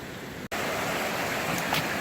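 Steady rushing of the East Fork river heard while walking along its bank on a mountain trail, a loud, continuous broadband wash with a brief click near the start.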